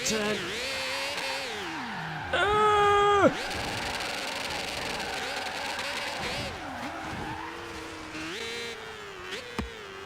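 A modified Ford Fiesta XR2 in Forza Horizon 3 screaming at a 20,000 RPM redline alongside other Fiestas, a loud, shrill engine wail that rises and falls with gear changes and a few sharp peaks, with voices talking over it.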